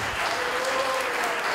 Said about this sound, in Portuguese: Você pode aplaudir o Senhor mais alto que você puder, meu amado.